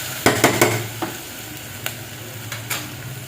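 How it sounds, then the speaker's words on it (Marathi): Potatoes and tomatoes sautéing in a pan for a green chilli pulao, with a soft continuous sizzle broken by several sharp spoon scrapes and taps, a quick cluster at first and then sparser strokes, close and without any voices. "आता बटाटा आणि टोमॅटो छान परतल्यानंतर"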